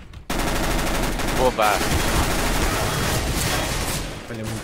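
Rapid gunfire in Counter-Strike: Global Offensive: loud, sustained automatic bursts fill the clip almost without pause, with a player's voice briefly heard over them.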